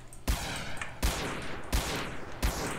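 Four heavy gunshot bursts crack out in a SA-MP zombie-apocalypse multiplayer game, each loud and sharp with a long booming tail, spaced roughly three-quarters of a second apart.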